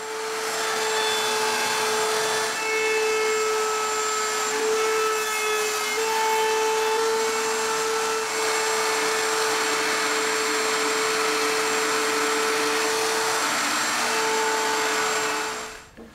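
A router fitted with a 1/4-inch roundover bit shapes the edges of a soft Western Red Cedar plank, giving a loud, steady, high-pitched whine with a faint cutting rasp that runs continuously before cutting off at the end.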